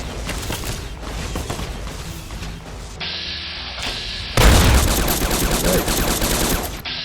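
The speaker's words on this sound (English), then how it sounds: "Uh-oh, rocket shot. It's gonna hurt." A gunfight in Fallout: New Vegas at Bitter Springs brings loud close bursts of rapid gunfire and a heavy rocket impact that crashes in and lingers, with no talking.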